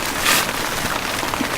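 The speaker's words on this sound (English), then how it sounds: "the rain is coming in a little heavier now" Heavier rain falling steadily outdoors during an afternoon of fishing, a dense even hiss of drops striking surfaces, close and constant with no talking.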